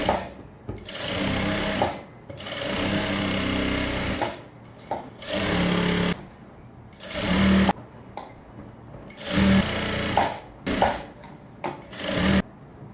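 A sewing machine stitches around the lining of a short gown, running in loud, close bursts of rapid mechanical whirring separated by brief pauses, each run lasting one to three seconds, with no talking.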